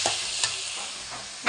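Taro and eggplant go into hot spiced oil left over from frying fish, giving a steady close sizzle with a few louder crackles and stirring scrapes, with no voices.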